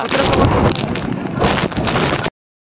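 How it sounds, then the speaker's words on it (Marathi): Loud, blustery monsoon wind roars and buffets against the microphone in gusts on a trek at Korigad Fort, Maharashtra, with a rushing, rain-like hiss underneath, cutting off abruptly near the end. "पावसात पण वाऱ्याची मजा आहे बघा"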